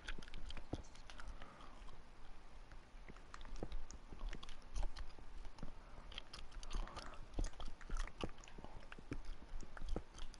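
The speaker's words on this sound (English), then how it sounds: "Stop fucking chewing so much" Someone chews loudly and close to a headset microphone during a PS4 live broadcast, making irregular wet smacks and clicks that repeat quietly over a low background.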